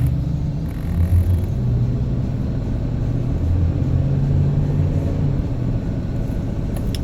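Steady low engine rumble from a 1997 Ford Expedition truck cruising smoothly, a continuous close drone without clear revving.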